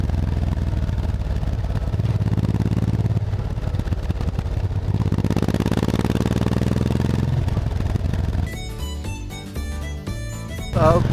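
A restored tractor known as the Denmark tractor passes on a Father's Day outing, its engine a steady, loud low rumble that swells and fades, then gives way to clattery mechanical noise near the end.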